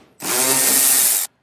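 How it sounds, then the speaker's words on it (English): A power tool with a 10mm socket spins out a screw from the rear side of a vehicle fascia in one loud, close, continuous whir of about one second, starting and stopping abruptly. "there's going to be 26 screws in total that we're going to be removing from the rear side of our fascia"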